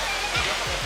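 A waterfall at Batu Caves in Kuala Lumpur roars as a dense, steady rush of falling water close by, with a voice speaking briefly over it.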